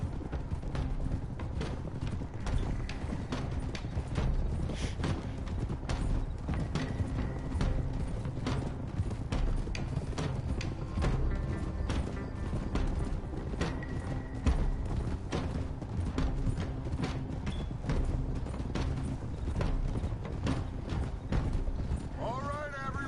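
Horses' hooves clip-clop steadily under constant game music and ambience in Red Dead, with a rider calling for everyone to dismount and speech heard over the hoofbeats.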